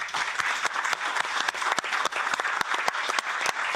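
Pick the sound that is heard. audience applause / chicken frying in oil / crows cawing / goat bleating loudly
audience applause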